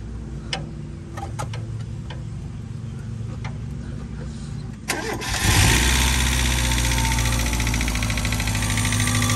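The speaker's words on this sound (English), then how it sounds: "it runs. The tick might go away when everything." An abandoned Mazda Miata's engine turns over amid faint ticks and clicks, then catches midway and settles into a loud, steady idle with a rapid tick in its running.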